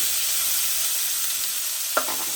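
Sliced onions frying in hot oil, left over from frying dried mackerel, give a steady close sizzle with one short clatter of a spoon near the end.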